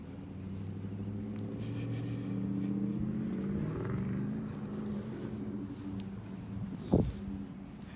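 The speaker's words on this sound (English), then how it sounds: "that white truck making those engine sounds at the corner" A white truck's low, steady engine rumble idles in the distance, constant throughout, with a single sharp knock near the end.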